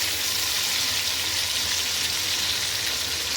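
Ground spice paste sizzles in a hot pan of oil for a soybean curry, a steady, close, hissing crackle that continues unbroken with no voices.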